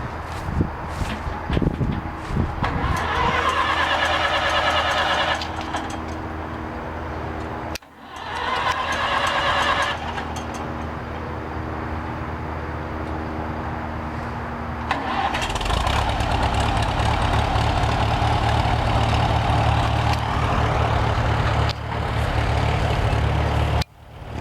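Ford tractor engines at a steam-era show run loudly in a continuous mid-range drone, with a revving section, a short cut and a shift to a deeper, steadier idle near the end.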